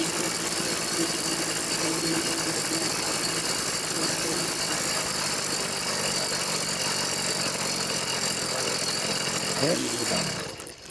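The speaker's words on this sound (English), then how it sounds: "You hear it getting louder as it's running out of gas. Me throttling it." Small 100cc bicycle motor being throttled as it runs out of gas, a steady loud buzzing drone that holds throughout before sputtering and cutting out at the end.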